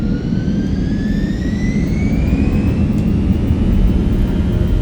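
Simulated airliner jet engines at full takeoff power in Microsoft Flight Simulator 2024, a loud, constant roar with a climbing high whine and no talking.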